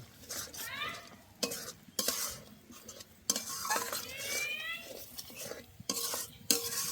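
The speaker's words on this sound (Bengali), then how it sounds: "অল্প একটু লঙ্কার গুঁড়ো, ভালো করে কষে নেব।" A spatula scrapes and stirs spice paste with chili powder in a hot pan for egg curry, rhythmic scraping strokes over a soft sizzle, with a few sharper metal knocks.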